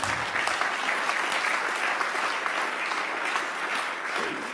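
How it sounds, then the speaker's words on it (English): An audience at a plenary session of a culture symposium in Weimar claps in dense, sustained applause, steady and fairly close throughout, with no speech over it. "Please give one more applause"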